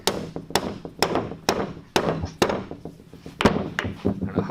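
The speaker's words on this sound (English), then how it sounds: "We bump it down with a hammer." A hammer drives a wedge down to lock parts in place, striking in a steady series of about ten sharp, loud, close thunks with short gaps between blows.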